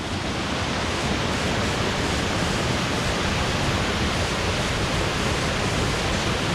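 Steady, dense roar of Cascada de los Caballeros waterfall in Suaita, Santander, Colombia, heard from the top of the drop, a loud unbroken rush of falling water without pause.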